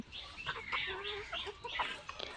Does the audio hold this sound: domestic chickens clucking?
yes